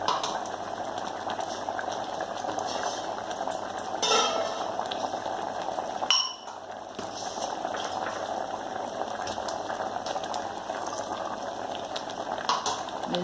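Kerala ozhichu curry, thinned with added water, boils steadily in a pot at close range, a continuous bubbling hiss that holds throughout, with a brief louder splutter partway and a short dip soon after.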